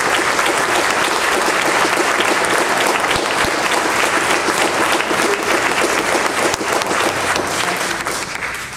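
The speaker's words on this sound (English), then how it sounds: "Let's give her a rousing applause." Loud, rousing applause from a crowd at a memorial service fills the whole stretch, dense and steady throughout with no voices standing out.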